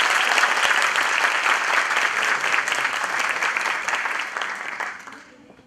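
A university auditorium audience claps to welcome a faculty advisor onto the stage, a dense, loud burst of applause that fades out near the end.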